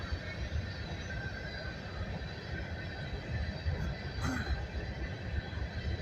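A coal train rolls south along the north end of the Abbeville Monroe subdivision railway line, a low, steady rumble of wheels on rail with a faint squeal, heard from a distance and fairly quiet.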